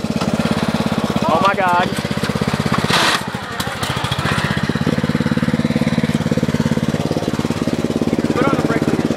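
Riding lawn mower engine chugging and revving loudly while it drives through mud, a steady rough rumble close by, with a person exclaiming over it partway through.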